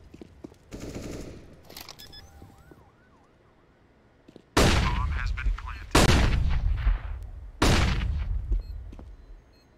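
Gunfire in a competitive video game match: a short burst early, then three loud, sharp volleys of rapid automatic shots, each ringing out and decaying, with faint game sound effects between.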